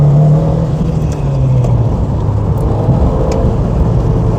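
A 1991 Ford Sierra RS Cosworth in original specification accelerates on a test drive, its engine a loud, close, steady drone heard from inside the car, with the pitch falling at a gear change before building again.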